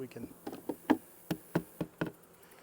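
Honey bees from a hive being checked during Apivar mite strip removal. Several short, close buzzes pass by in an irregular rhythm of about eight distinct bursts, each flaring and fading quickly, with no talking.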